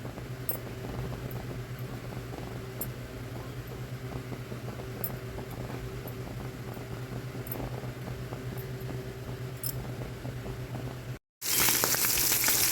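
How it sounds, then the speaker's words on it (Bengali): Chapila fish fry in oil in a frying pan with a continuous, even sizzle and occasional small pops. After a short break, a sudden louder burst of hissing spatter ends the sound. "এখন মাছ দিয়ে দিব মাছগুলো আমি দুই পাশ বাদামি করে ভেজে নেব"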